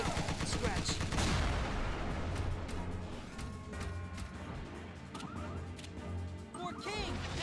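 Gunfire and explosive crashes from the turn-based strategy game Tiny Metal: Full Metal Rumble, with bursts of shots and impacts layered over game music and brief voiced unit lines.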